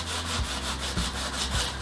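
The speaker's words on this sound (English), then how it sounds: "I have my thinners and my scrubber, and I just literally scrub away at the residue of the wax" A scrubber works thinners into waxy Waxoyl residue on a car underbody in steady back-and-forth strokes, a rough rhythmic rasp repeating about every half second with no talk.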